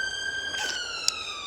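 An ambulance siren wails steadily outdoors on a cold allotment plot, loud and sustained with a slowly sliding pitch, while a few faint knocks sound nearby.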